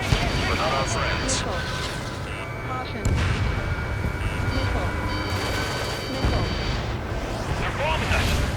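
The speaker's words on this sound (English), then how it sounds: "They're bombing us!" Ace Combat 7 battle audio: heavy booming bombing explosions and rumbling blasts roll continuously, with a couple of sharper bursts, under background chatter and layered in-game sounds.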